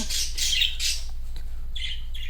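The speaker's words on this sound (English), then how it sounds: "Don't mind my birds in the back." Newly acquired pet birds squawk in short, harsh bursts in the background of an indoor room, a few calls repeating then pausing, with no talk.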